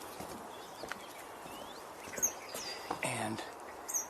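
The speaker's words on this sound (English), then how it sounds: "And we're hearing a northern cardinal." Faint northern cardinal song outdoors: a few thin, slurred whistled notes at a distance against quiet background, with a brief low human voice in the middle.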